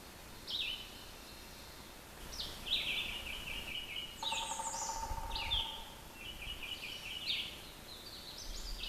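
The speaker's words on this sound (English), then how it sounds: "More woodpeckers." Birds call repeatedly in a Shenandoah National Park forest along the Jordan River Trail, with several sharp, high chirps and squeaky notes spaced irregularly over a steady outdoor hush, moderately close, with no talking.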